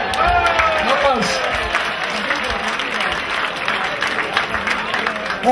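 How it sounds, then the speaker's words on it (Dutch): A crowd applauding at a pole-sitting final, sustained clapping with some cheering, lively and fairly loud, with an announcer's voice and crowd noise mixed in. "Applaus."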